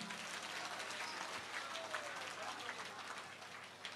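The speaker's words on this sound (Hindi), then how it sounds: "जोरदार ताली बजा के धन्यवाद दो" Dense, steady clapping from a large crowd at a Hanuman temple consecration festival in Gurugram, Haryana, sustained throughout with some voices mixed in.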